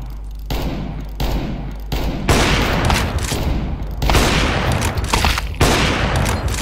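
Loud bursts of gunfire in the Counter-Strike video game, a rapid series of sharp shots in several clusters with brief pauses between them, close and dominant throughout.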